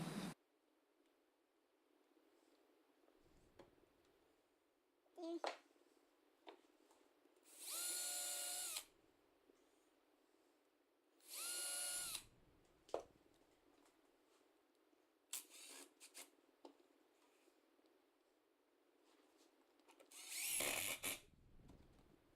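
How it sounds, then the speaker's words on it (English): Several short bursts of a power drill whirring, starting and stopping at intervals with quiet pauses between them. "This piece here we can drill."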